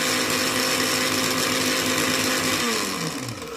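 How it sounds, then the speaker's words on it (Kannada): A mixer grinder whirs steadily as it blends coconut pieces and green masala in its jar, a loud continuous motor drone that winds down near the end. "ಕೊಬ್ಬರಿನ ನಾವು ಮಿಕ್ಸಿಗೆ ಹಾಕ್ಕೊಂಡು ಮಿಕ್ಸ್ ಮಾಡ್ಕೋತಾ ಇದ್ದೀವಿ"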